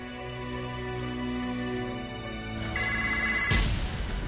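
A phone rings out on an outgoing call, steady ringback tones repeating for several seconds with no voices, then a sharper ringing burst near the end.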